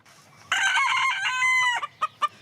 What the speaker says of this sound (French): Bienvenue dans le monde des poules de collection